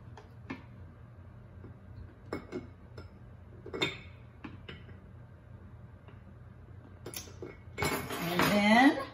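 A metal spoon clinks against a container while unscented Dr. Bronner's Castile soap is measured out by the tablespoon, several light, scattered ticks and taps, ending in a louder burst of clattering and rustling.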